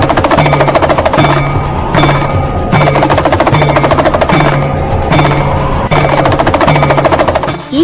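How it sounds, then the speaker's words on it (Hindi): A damru, Lord Shiva's small hand drum, rattles by itself in fast, loud bursts of rapid beats, repeating in a steady rhythmic pattern throughout, with no voices. "आज महादेव का डमरू स्वयं बोला है"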